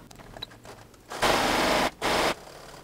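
A sewing machine back stitches a 5/8 inch side seam on a camisole, starting after a quiet moment with a loud close burst of rapid stitching, a brief pause, then a second shorter run.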